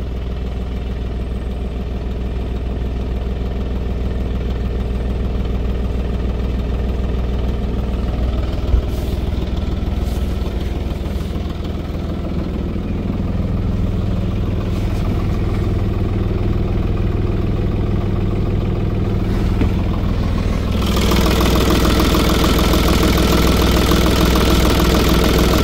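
A diesel engine idles close by with a steady, clattering low rumble, running continuously and growing slightly louder and fuller toward the end, after a fuel system cleaning treatment.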